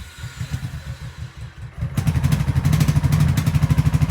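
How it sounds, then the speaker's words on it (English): A Honda Shadow Sabre 1100 motorcycle engine running roughly, first a lumpy uneven idle, then revving up into a loud, fast, rattling pulse that stays harsh and irregular, close by with no talk. "Now this thing's not running right, but it's running."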